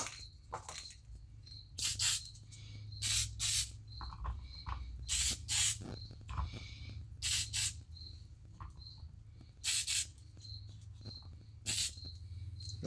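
Flat black paint being sprayed onto a Dodge Challenger spoiler in repeated short hissing bursts, each lasting about a second with pauses between, over a steady low background hum.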